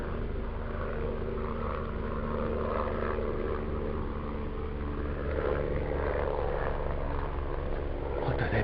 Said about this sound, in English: Black helicopter going across the blue sky with the fluffy clouds in the distance.